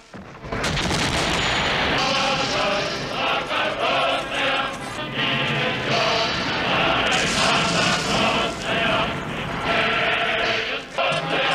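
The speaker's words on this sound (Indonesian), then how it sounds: "artileri jenis howitzer 152 mm ini terus memberikan salvonya" 152 mm howitzer artillery firing salvos, with repeated heavy booms over loud, continuous live music.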